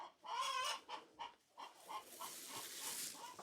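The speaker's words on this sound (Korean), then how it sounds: "매일 아침 싱싱한 달걀을 생산해내는 암탉들" Free-range hens on a rural farm in Hongcheon cluck in a rapid, irregular series of short calls, fairly close and clear with no talking.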